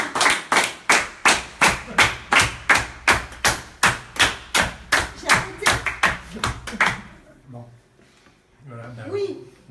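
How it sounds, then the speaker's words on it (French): Audience at a live gallery event clapping in unison, a loud rhythmic series of about twenty evenly spaced claps that stops abruptly, followed by a brief murmur of voices. "Non, on applaudit."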